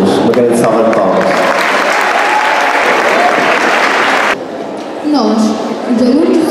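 Loud applause for second-cycle students at a school Christmas party, a dense roar of clapping that suddenly drops off, with talking voices rising in the room as it fades.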